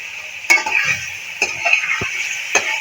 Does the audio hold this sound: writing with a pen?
no